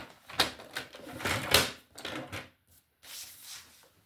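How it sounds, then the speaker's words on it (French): A paper trimmer scores fold lines on paper with a string of sharp, dry clicks and scraping strokes, close and quiet, in short irregular bursts with brief pauses between them. "Donc vous prenez votre massicot."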